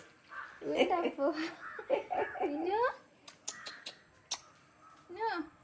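Crows caw near a home in a few harsh, close calls spread across a few seconds, mixed in with people talking and a voice.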